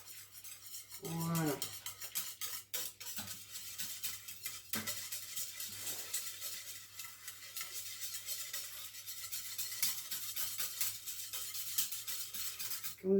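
Utensil stirring milk for homemade yogurt in a bowl, a steady run of light scraping and clinking taps under a low background hum, with a brief spoken word.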